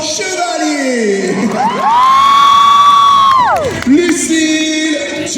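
An audience at a book event cheers, whoops and yells loudly as participants are announced. The crowd noise is sustained and close, with high-pitched shouts and calls standing out over the roar.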